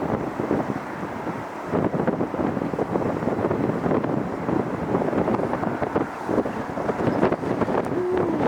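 Steady blustery wind buffets the microphone at LAX airport throughout, a continuous rumbling roar with gusty fluctuations and no clear voices.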